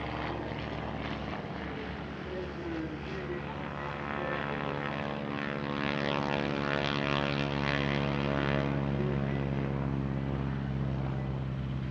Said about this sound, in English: two replica Mitsubishi Zeros, they're actually T6 Harvards, and a trio of Corsairs take to the runway